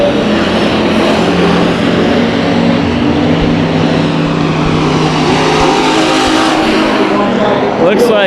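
Hobby stock race cars roar around Bakersfield Speedway, a loud continuous engine drone with shifting pitch as the pack passes close, and a commentator talks over the noise.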